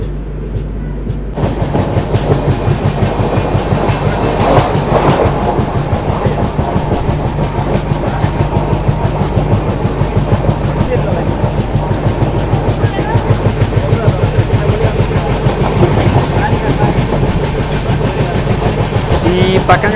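Double decker express train running toward Jolarpettai, heard from on board as a steady loud rumble with continuous rhythmic clickety-clack of wheels over rail joints throughout.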